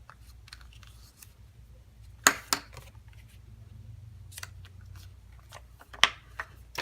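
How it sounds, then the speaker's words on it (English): A handheld tape runner lays adhesive onto paper, making quiet clicks and a couple of sharper snaps against a soft background. "maybe what I'll do is I'll tape run this so it doesn't move"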